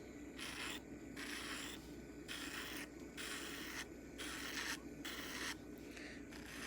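A Manny Pro electric nail drill runs at low speed against an acrylic nail, a faint steady whir broken by regular rasping passes of about half a second each, repeated rhythmically and close.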